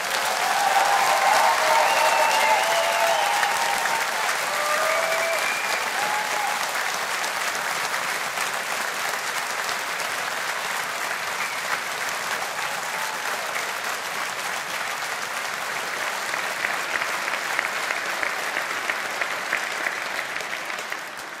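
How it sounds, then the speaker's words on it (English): Applause rings out for the 2023 humanities and social sciences graduates at a university graduation ceremony in a hall, a long and sustained ovation from a large audience that stays dense and even throughout. "Let's give our graduates of 2023 a big round of applause."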